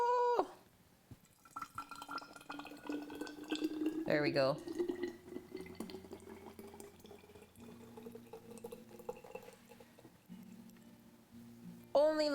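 Salad dressing is poured from a bowl onto a cutting board, a soft liquid trickle and splatter running under a person's voice, with a sharp exclaimed vocal burst midway.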